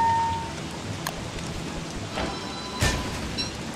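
Steady rain falls in the video game Don't Starve during spring, a soft continuous hiss with a few brighter spatters and sharper drips standing out near the end.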